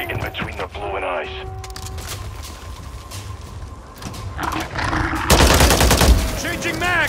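Gunfire at zombies in Call of Duty: Modern Warfare III, with bursts of shots under radio-style voice chatter and growls, growing denser and louder toward the end.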